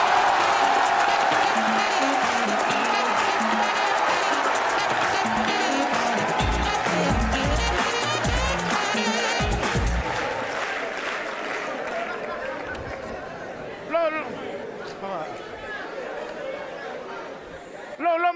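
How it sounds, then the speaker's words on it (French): An audience at a comedy show applauds and cheers loudly, with a dense wash of clapping and crowd noise that fades away after about ten seconds. Talk follows over a quieter room. "vous applaudissez"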